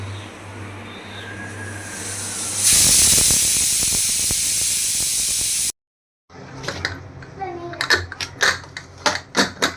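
A pressure cooker whistle releases a loud burst of hissing steam for a few seconds and stops suddenly, followed by scattered clicks and clatter.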